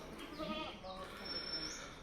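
A large goat kid bleats a few short, wavering cries at a livestock sale, with voices murmuring nearby.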